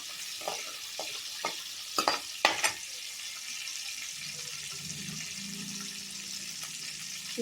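Fenugreek, black pepper and cumin seeds fry in hot oil for a tempering, giving a faint steady sizzle broken by a few sharp crackles and pops near the start, with soft stirring later.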